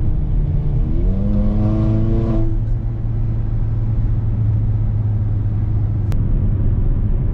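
A Mercedes GLA45 AMG running a Eurocharged TCU tune accelerates hard, its engine note rising in steady pulls through quick, smooth gear shifts, heard loud and close from inside the car over constant road rumble.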